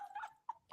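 A person imitates a dog's bark on request, giving three short yip-like barks close up with pauses between them, the first one longer and drawn out.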